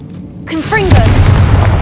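A Confringo spell in Hogwarts Legacy detonates with a sudden loud booming blast and a rumbling tail. A voice calls out just before the boom.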